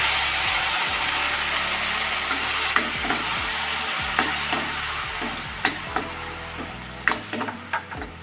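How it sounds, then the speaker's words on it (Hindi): Tomato puree cooks over fried onions in a pan, sizzling steadily while a spoon stirs it, scraping and clicking in a quickening series of distinct taps toward the end, with no talk. "इसको पकाते हैं थोड़ा सा, 2 मिनट के लिए इसको चलाते हैं ऐसे ही।"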